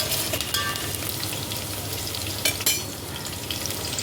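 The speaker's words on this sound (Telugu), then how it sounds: "ఉల్లిపాయలు, పచ్చిమిర్చి కొంచెం ఫ్రై అయిన తర్వాత" Onions and green chillies fry in a pan with a steady, close sizzle and occasional stirring scrapes, with no voices.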